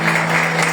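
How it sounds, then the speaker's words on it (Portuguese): Church congregation applauding together, a steady wash of clapping with no talk over it, with a low steady hum underneath. "pode aplaudir ao Senhor nessa hora?"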